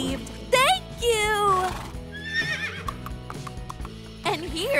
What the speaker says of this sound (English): A magic horse came to the rescue.